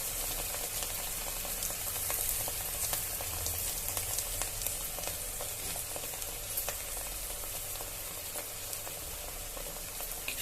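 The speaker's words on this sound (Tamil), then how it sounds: "இதை நல்லா வதக்கி விட்டுருலாங்க" Aloe vera flowers sautéing in a pan with salt, a soft continuous sizzle and crackle with occasional stirring scrapes, close and fairly quiet.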